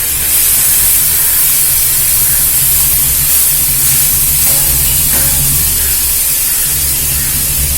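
Crushed garlic hitting sautéing greens in a hot pan, producing a loud, steady, continuous sizzling hiss that stays close and constant throughout.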